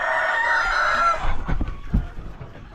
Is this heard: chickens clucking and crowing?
yes